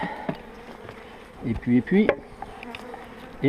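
Honeybees buzzing close by at a hive, with intermittent rising and falling drones as individual insects fly past over a faint background hum.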